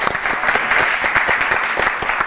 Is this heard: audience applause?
yes